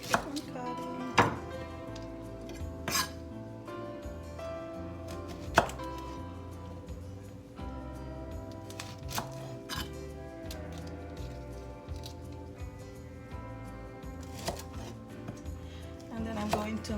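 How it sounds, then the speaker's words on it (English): A Santoku knife cuts steak on a board, giving faint, sparse knocks and slices over a steady low background hum, with a few sharper taps standing out. "I'm using my Santoku knife. It's my everyday knife actually. So it's gonna keep on cutting."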